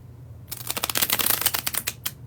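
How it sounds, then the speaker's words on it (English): A deck of flimsy cards gets a bridge shuffle: a quick, close, crisp burst of riffling cards fluttering together, ending with a short cascading snap as the deck squares up. No one talks. "Once more, I'm about to do the bridge shuffle."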